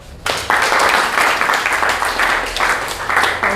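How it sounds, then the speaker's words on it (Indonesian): A classroom of students bursts into loud, full applause after a brief lead-in, sustained dense clapping with a faint hum underneath. "Tepuk tangan"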